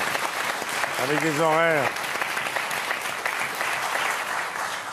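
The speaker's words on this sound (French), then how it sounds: "j'aimerais qu'on les applaudisse vraiment parce qu'ils font un travail" A French television studio audience applauds doctors and surgeons in a steady wash of clapping, with a voice speaking over it and a brief sung or held tonal note partway through.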